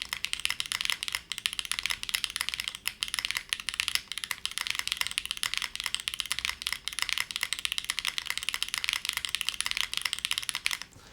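Rapid, steady typing on a Neo series mechanical keyboard fitted with bottom foam, a close, continuous stream of crisp clacky keystrokes at modest volume, with no talking.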